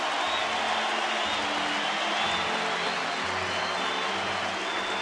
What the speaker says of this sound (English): he gets a well-deserved round of applause as he trots off